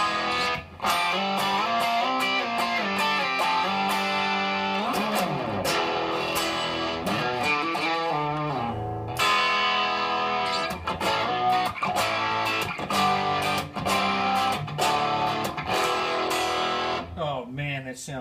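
A distorted electric guitar through a DOD 250 distortion pedal plays loud, gritty chords and riffs with sustained, saturated tone and occasional pauses between phrases.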